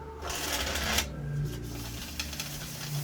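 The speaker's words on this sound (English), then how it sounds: "I'm just gonna shuffle you because you're fun." Tarot card shuffling rustles and riffles close by, brief flurries of papery snaps over a low steady hum.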